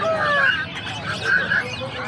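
Several ducks quack and honk in overlapping calls, moderately close, with a faint voice underneath.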